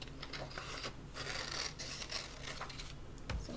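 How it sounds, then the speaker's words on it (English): Scissors cut a paper circle into three pieces, making several close, quiet snipping and rustling strokes in irregular bursts, with a soft thump near the end. "I'm going to cut out my 3 equal pieces."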